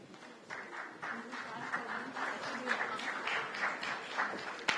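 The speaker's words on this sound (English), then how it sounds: "Can we have a louder round of applause, ladies and gentlemen?" An audience applauding during an on-stage felicitation at a formal event, a steady wash of clapping with some voices underneath that lasts through the whole stretch at moderate volume.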